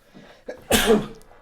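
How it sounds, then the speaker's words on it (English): A single loud, sharp human sneeze bursts out after a brief quieter intake of breath, close to the microphone and otherwise alone. "I'm gonna sneeze."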